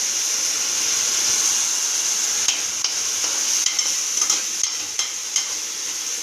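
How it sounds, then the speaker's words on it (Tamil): Ingredients for a mutton curry sizzle as they are sautéed in a pan, a steady frying hiss with a few sharp taps of a spoon stirring against the pan, heard close without talk. "பச்சை வாடை போகிற வரைக்கும் நல்லா வதக்கிக்கோங்க."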